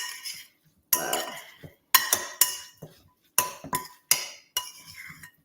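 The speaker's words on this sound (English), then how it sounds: "It's not so loud over these banging spoons." Metal spoons clink and bang against dishes in a kitchen while food is prepared and preserved, sounding in close, sharp bursts of ringing clatter separated by short pauses.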